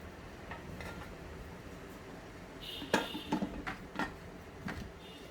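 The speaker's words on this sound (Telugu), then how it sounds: "ఇప్పుడు కుక్కర్ మూత పెట్టుకోవాలండి." A metal lid going onto a pressure cooker in a home kitchen as dal is made, giving a few short clinks and clatters in quick succession near the middle, with a faint room hiss and no talk.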